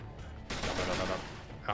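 A gunshot rings out in the video game SteamWorld Heist, an abrupt, loud burst that follows a quieter stretch and tails off over about a second.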